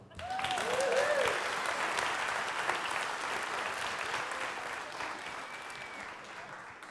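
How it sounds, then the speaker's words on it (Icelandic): Audience applauding after a magic trick at a church gathering, steady clapping that swells early and then slowly fades, with a few voices calling out over it. "Þá megið þið klappa."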